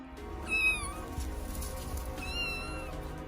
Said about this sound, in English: As a passing pedestrian heard the animal's desperate squeals